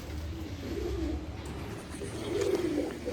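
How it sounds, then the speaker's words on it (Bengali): A top-quality breeder pigeon cooing nearby, two soft throaty rolling coos about a second apart, close and fairly quiet with faint background hiss. "পুরো ব্রিডার, একটা টপ কোয়ালিটির ব্রিডার কবুতর।"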